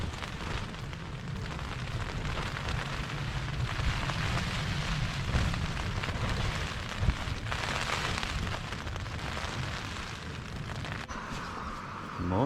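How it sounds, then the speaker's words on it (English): Heavy rain falls steadily for hours around a small tent on a Pennine Way campsite, a constant dense patter and hiss drumming on the fabric at close range, with no voices. "It's been raining like this for about 4 hours now."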